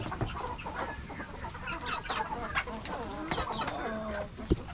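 Chickens clucking and chattering at close range, a busy flock with overlapping calls and a few sharper squawks.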